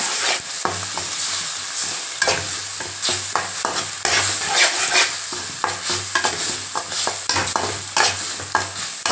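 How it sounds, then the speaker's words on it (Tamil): Beaten eggs being stirred into frying onion and tomato in a pan for bread egg upma, with steady sizzling and repeated scraping stir strokes, close and continuous, no talking. "முட்டை நல்லா மிக்ஸ் ஆகிடுச்சுங்க வெங்காயம் தக்காளியோட"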